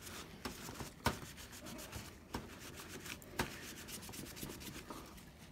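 Old thermal paste is rubbed off a PS4 Pro chip in quick, repeated strokes, a soft close scrubbing rasp with a few sharper scuffs, quiet and steady with no talking.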